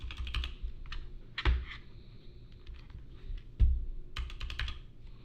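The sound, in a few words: typing on computer keyboard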